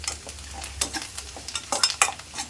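Vermicelli and other ingredients roasting in a pan until brown for sheer khurma: a soft, close sizzle broken by repeated clattering stirs and spoon scrapes against the metal.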